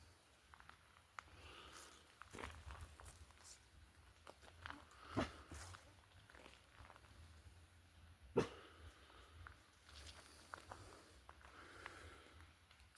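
A dog near Far Pocosin gives a few faint, scattered barks and yips at a distance, separated by quiet stretches with low background rumble and occasional soft knocks.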